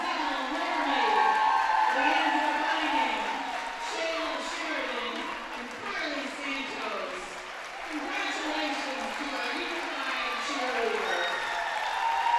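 Crowd at a cheerleading championship applauding and cheering after a unified cheer squad's routine, steady broad clapping with scattered whoops throughout, voices mixed into the din.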